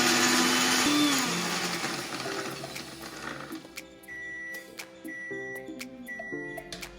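A mixer grinder pulses Oreo biscuits into fine powder, a loud whirring grind for the first seconds that winds down into rattling and scattered clicks as the jar settles.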